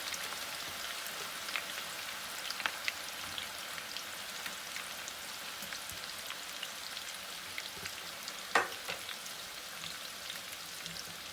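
Sliced onions frying in hot ghee give a steady, dense crackling hiss with scattered pops and one sharper crack near the end, continuous throughout with no voices.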